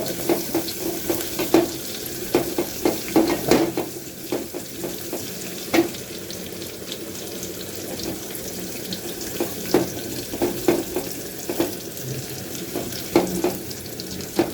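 Spiced dal mix frying in hot oil for a tempering in a home kitchen, giving a steady crackling sizzle with sharp pops and clinks scattered throughout, close and fairly loud, with no talk.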